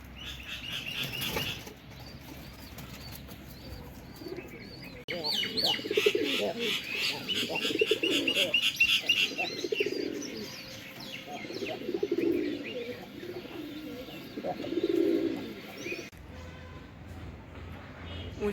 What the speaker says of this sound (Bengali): ওই যে দেখেন কবুতরটা